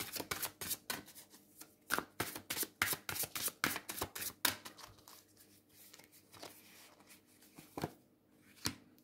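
A deck of tarot cards is shuffled by hand close up in quick bursts of crisp, riffling flicks, then slower, sparser card slaps, with no talking.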